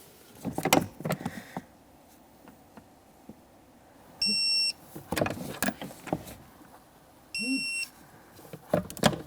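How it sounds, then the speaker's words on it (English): A torque wrench tightens the rear shock bolts on a 2007-2017 Jeep Patriot to 35 foot-pounds. Close ratcheting clicks and clanks are broken twice by a sustained electronic beep. "Let's torque these to that 35 foot-pounds."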